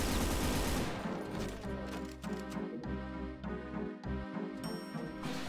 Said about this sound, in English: Shoot the guy in the face.